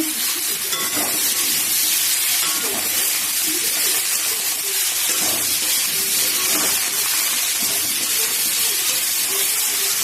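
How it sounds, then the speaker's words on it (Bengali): Whole okra (bhindi) goes into hot oil alongside potato and tomato for a vegetarian curry, giving a loud, steady, close sizzle with stirring and spattering throughout. "এবারে ভেন্ডিগুলো দিয়ে দেবো, ভেন্ডিগুলো গোটা গোটাই রেখেছি।"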